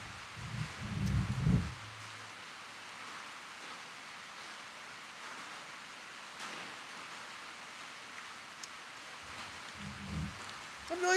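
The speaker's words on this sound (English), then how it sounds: "It's raining." Steady outdoor rain hisses in a continuous broadband wash across the whole stretch, with a couple of brief low thumps near the start and end.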